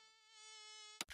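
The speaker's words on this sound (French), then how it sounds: "Il y a une mouche qui m'embête" A fly buzzes close by with a steady, thin whining drone that holds evenly for about a second, then is cut off by a couple of brief loud bursts of noise.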